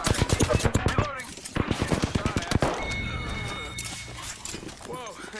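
Enemy gunfire in a video game sounds as a rapid string of sharp, loud shots in the first half, followed by a quieter stretch with a voice speaking over it.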